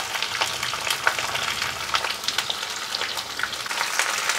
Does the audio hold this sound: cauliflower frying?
yes